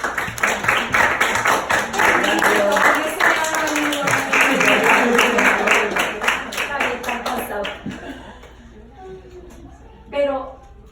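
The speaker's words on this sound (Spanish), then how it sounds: "les doy un aplauso a ustedes" A church congregation applauds during a spiritual teaching class, rapid clapping rising under a preacher's continuing speech before fading out near the end.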